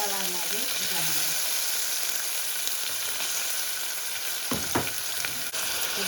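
Fresh green peas frying in a pan, a constant close sizzle with scraping stirs and a couple of spoon knocks, while a voice talks briefly at the start.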